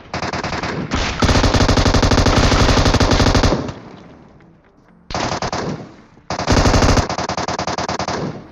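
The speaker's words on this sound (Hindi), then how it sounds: "M249 चलने की आवाज़ आती है" Rapid, sustained bursts of M249 machine gun fire in a video game, loud and close, in long automatic volleys separated by a short lull.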